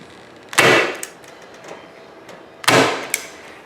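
A staple gun fires twice into a wooden window frame to hold the screen, each shot a loud, sharp snap about two seconds apart, with faint handling rustle between them.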